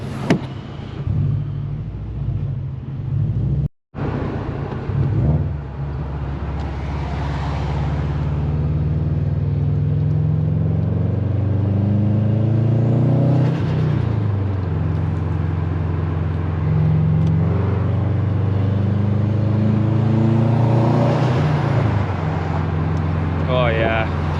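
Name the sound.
Subaru WRX STI engine rumble while driving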